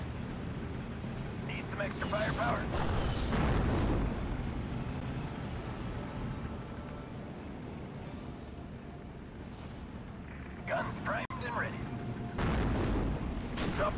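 Bomb and artillery blasts from the Steel Division Normandy 44 war game, heavy booms rumbling in clusters near the start and again toward the end, with battle noise and someone talking over them.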